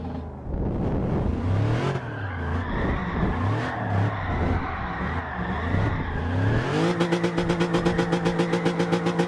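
A car drifts with its tires skidding as the engine drones and warbles under the slide, then settles into a steady pulsing revving note for the last few seconds; loud and close, no talking.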